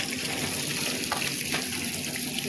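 Fish roe and fish fat are washed under running tap water in a kitchen sink, a steady close hiss of flowing water with a few faint splashes and no speech.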